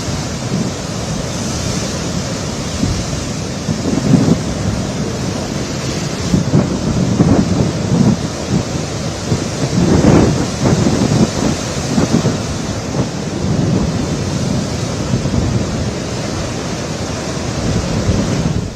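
Rough sea waves pound Uppada Beach during Cyclone Montha, a loud continuous roar of surf with repeated heavy crashes, wind and rain mixed in and no voices.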